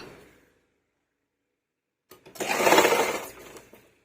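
A sewing machine stitches blouse sleeves in a single short burst of about a second and a half, close and fairly loud, after a near-silent pause.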